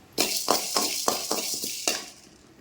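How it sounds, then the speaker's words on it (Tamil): Chana dal and urad dal tossed dry in a pan with no oil: a quick series of scraping, rattling stirs as the lentils shift against the metal, about six strokes close to the microphone, with no talk. "கொஞ்சம் குழம்புக்கு கடலைப்பருப்பும் உளுந்தப்பருப்பும் போட்டு எண்ணெய் ஊற்றாமல் வடக்கல்ல போட்டு வறுத்துக்கலாம்"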